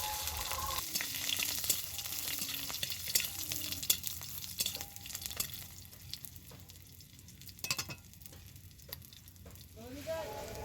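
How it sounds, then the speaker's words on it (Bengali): Tempering with four slit green chilies fries in a pan, a moderate sizzle with frequent stirring scrapes and clacks, quieter in the middle and rising again near the end. "চারটি চেরা কাঁচা লঙ্কা দিয়ে দিলাম এবারে ফোড়নটাকে একটু ভালো করে ভেজে নিচ্ছি"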